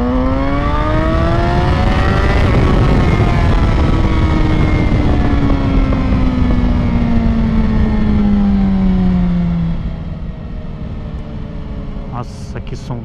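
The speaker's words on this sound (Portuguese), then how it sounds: "que som lindo que tá essa moto" Motorcycle engine with a new aftermarket exhaust tip holds a loud, steady rev that climbs, then slowly winds down over about ten seconds before dropping to a lower idle, heard close up on a city street.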